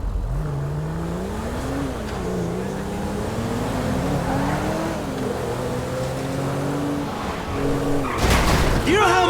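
Car driving in Grand Theft Auto V, engine tone rising and falling through revs and gear changes, steady and close, ending in a brief burst of harsh noise, with a voice speaking over it.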